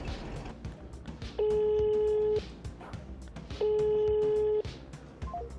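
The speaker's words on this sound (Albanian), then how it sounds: "po për çdo rast po provojmë me thirr pronarin e kompanisë Sulejman Brojani." A telephone ringback tone sounds in two long steady rings with a gap between, as a call to a company owner goes unanswered, heard close over a faint background murmur.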